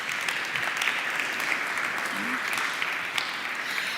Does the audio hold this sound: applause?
yes